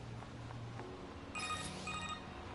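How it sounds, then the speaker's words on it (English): A phone call rings in the video game NieR: Automata, a bright electronic trill of repeated tones that briefly sits over quiet game ambience. "Oh, getting a phone call."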